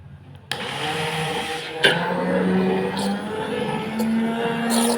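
A Bosch mixer churning cream into butter runs with a continuous motor whir that starts abruptly, with a couple of sharp knocks and shifting pitch as the mixture thickens.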